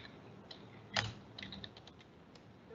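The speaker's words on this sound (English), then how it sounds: "I'm typing here www.whatismyip.com." Fingers tap keys on a computer keyboard while entering a web address, soft scattered clicks with one louder knock, faint and close in a quiet room.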